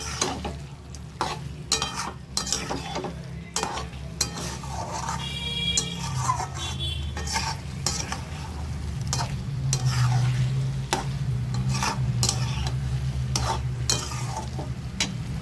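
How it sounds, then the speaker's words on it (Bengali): Chicken with spices sizzling in oil as it is stir-fried for kosha, a steady loud frying hiss with repeated spatula scrapes throughout, close and continuous without voices. "মশলা দিয়ে এবার আমি ভালো করে চিকেনটাকে কষাবো যতক্ষণ না পর্যন্ত তেল ছেড়ে আসে মাংস থেকে"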